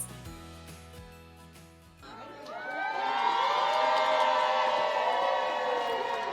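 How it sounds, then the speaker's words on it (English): A crowd cheers and whoops for a 99-year-old woman leaving a Long Island care facility after beating coronavirus. The noise swells suddenly and stays loud and sustained after a quieter opening. "The applause is for Miss Ann Giardino."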